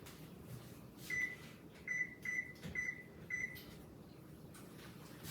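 An oven being set to preheat to 350 degrees gives a series of five short, evenly spaced electronic beeps, clear and close over a quiet room hum.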